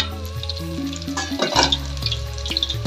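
Crispy snack frying in hot oil, a steady close sizzle and crackle with stirring, loud and continuous with no talk over it.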